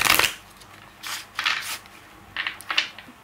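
Tarot cards being shuffled by hand in short riffling bursts, three or four crisp papery flurries separated by brief gaps, close and clear with no voice over them.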